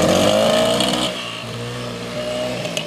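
A car engine roars loudly and revs, its pitch rising and falling, close by and continuous, with a brief drop in intensity partway through.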